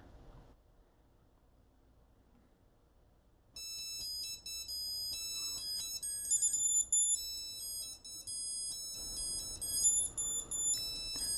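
After a few seconds of near silence, a CubiTag Bluetooth key tracker starts playing a loud, high-pitched electronic melody that keeps repeating until the end.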